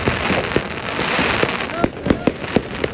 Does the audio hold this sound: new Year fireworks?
yes